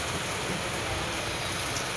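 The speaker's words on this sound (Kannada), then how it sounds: "ಮಳೆ ಬರತ್ತೈತೆ." Steady rain falls throughout, a dense, even hiss with no distinct drops standing out, moderately quiet and continuous with no voices.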